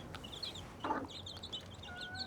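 Chickens and young chicks on a farm give soft, repeated clucks and high peeping calls, faint and fairly close, with one brief louder call in the middle.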